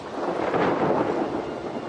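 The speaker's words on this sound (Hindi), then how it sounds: "आसमान में काले बादल दिखाई देने लगे हैं। बरसात आ चुकी है।" Thunder rumbles through a storm as rain arrives over Kakadu in northern Australia, a broad, steady roar lasting about two seconds with no voices.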